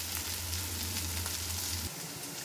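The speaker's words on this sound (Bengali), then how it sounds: "নিয়ে চিংড়ি মাছটাকে ভেজে দেবো।" Shrimp frying in hot oil for a fish curry with gathi kochu, giving a loud, steady close sizzle with a low bubbling hum that cuts off abruptly near the end, no voices.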